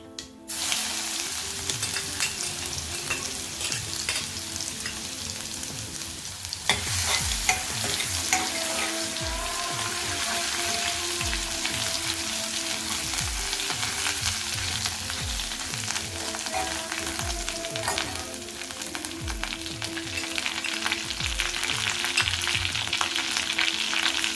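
Garlic, ginger and green chili paste is frying in hot oil with mustard seeds, cumin and asafoetida for a spicy bitter gourd curry. A loud, steady sizzle carries on throughout, broken by repeated scraping stirs of a spoon in the pan, with no talking.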